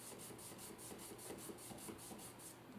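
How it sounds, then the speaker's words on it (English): A reed is dry sanded back and forth with 400 grade sandpaper, a soft, faint rasping rub repeating in an even rhythm of about a dozen strokes, close up and with no talking. "I've got some 400 grade sandpaper here, and the method for this is as such, dry like this, and just sand it back and forth a little bit"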